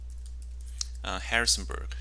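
Computer keyboard typing while entering a Landsat image search in ArcGIS Pro: light, quick clicks near the start, then a person speaking over the later keystrokes.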